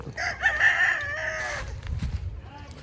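A backyard rooster, one of a set of gamefowl, lets out a single crow lasting about a second and a half, fairly close and clear, followed by low rustling farmyard noise.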